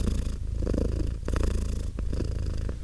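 Cats purr close up in a continuous rumbling drone, with soft rhythmic breaths pulsing through it and a few brief pauses.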